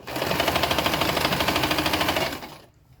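Sewing machine running steadily to stitch stretched elastic onto a fabric bonnet cap, a close, fast even whir with regular ticking pulses for about two and a half seconds before stopping abruptly.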